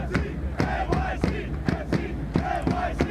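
A stadium crowd in the Football Manager 2018 video game roars and chants in loud rhythmic surges, bursts of shouting rising and falling roughly every half second.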